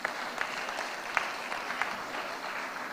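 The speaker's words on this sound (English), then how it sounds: "You too deserve some applause, so please applaud them." An audience at a nursing school graduation applauds the graduates with steady, dense clapping that sounds moderately distant and fills the whole short stretch.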